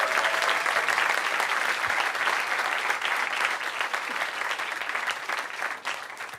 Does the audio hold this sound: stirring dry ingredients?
no